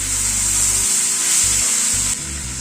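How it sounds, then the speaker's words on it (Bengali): Chicken with spices sautéing and frying in a pan, a loud steady sizzle with scraping stir sounds and a low background hum. "সবগুলোকে আবার একসাথে একটু কষিয়ে নিলাম।"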